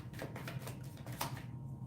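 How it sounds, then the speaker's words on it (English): Quick, papery shuffling of tarot cards, a run of soft riffling snaps close by with a steady low hum underneath. "I'm shuffling the cards."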